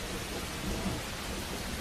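Steady, dense downpour of tropical rain with a thunderstorm rumbling during the Australian rainy season, a continuous broadband wash of sound with no voices.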